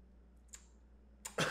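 A brief cough near the end, preceded by a faint sharp sound, in an otherwise quiet room.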